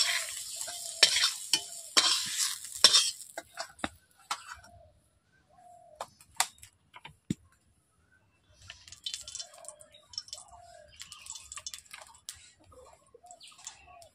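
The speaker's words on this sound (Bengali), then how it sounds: "পটলগুলোকে আমি কড়াই থেকে এখন তুলে নিচ্ছি।" Fried pointed gourd being lifted out of a wok with a spatula, giving scraping and clinking strikes against the metal over a soft oil sizzle that fades to near silence, then lighter stirring sounds.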